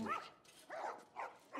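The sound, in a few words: dogs barking in video game The Last Of Us Remastered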